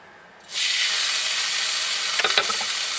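Steak hits a hot pan and bursts into a loud, sustained sizzle and hiss that holds steady, with a few crackling pops near the end.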